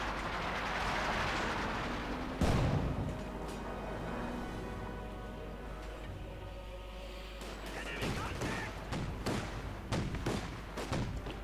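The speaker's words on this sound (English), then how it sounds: "the Grenadiers firing away there for Deutschland" Rifle fire from German Grenadier infantry in Company of Heroes 2, a steady crackle of shots with heavy thuds and a sharp blast near the start, under continuous battle din.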